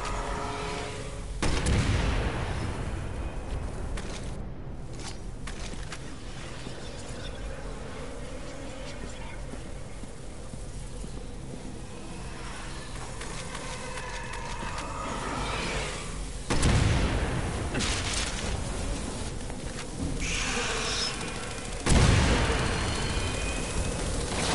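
Heavy game explosions from grenades in Resident Evil 6, a few deep booming blasts near 2, 17 and 22 seconds standing out over a continuous rumbling, chaotic battle soundscape.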